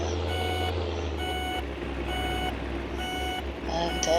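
A lorry reversing, its backup alarm sounding as steady evenly spaced beeps over a low diesel engine rumble; the beeping repeats about five times and stays prominent throughout.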